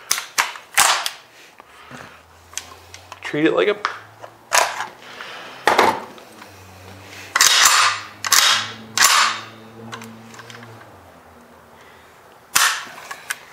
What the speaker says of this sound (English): when you shoot this thing, you can hear that ka-chunk